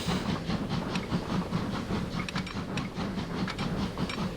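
Steam train in a railway video game, a steady rhythmic chuffing and rolling clatter that keeps going throughout, fairly quiet and with no talking.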